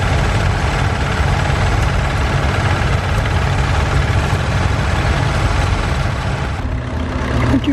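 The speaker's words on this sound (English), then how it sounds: "That diesel engine Fortune has made a quite nice job." Diesel tractor engine running steadily while ploughing in a field at Sutton Scotney, a continuous loud low rumble and drone throughout with no voices.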